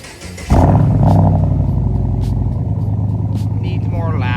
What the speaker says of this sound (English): I want you guys to hear the cold start on this.